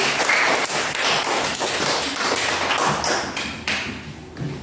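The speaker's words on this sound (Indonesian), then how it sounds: "Tepuk tangan hadirin semua." Audience in a primary school classroom clapping together, a dense, steady burst of hand claps lasting several seconds, fairly loud and close with no talk over it.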